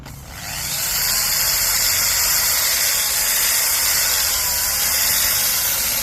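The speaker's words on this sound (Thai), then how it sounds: "ผมจะมาลองทดสอบ เป็นสว่านนะครับ ของมากิต้า710 วัตต์" A steady, loud power-tool whine from a 710-watt Makita electric drill spins up within the first second and holds continuously with a hissy high-pitched buzz until the end.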